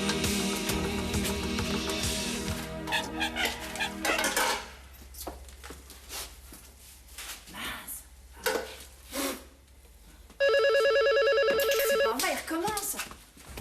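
An old-style telephone bell rings loudly in repeated bursts near the start and again later, between stretches of quieter clattering and scattered sounds.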